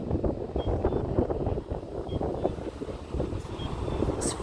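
Steady, rumbling wind among big buildings at Temple Square, Salt Lake City, buffets the microphone throughout, a low continuous roar with no clear talk.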